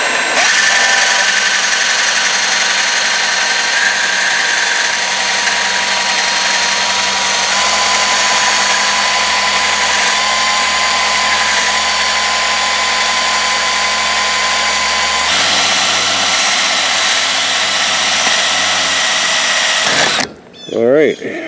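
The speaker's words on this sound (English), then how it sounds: "you're going to take a hacksaw and just put on the line where you just cut through with the X-Acto knife. And you're just going to spin the drill up" A power drill spins a foam-and-rubber RC car tire against a hacksaw blade to trim it, a steady close whine and scraping hum that runs unbroken for about twenty seconds before stopping abruptly.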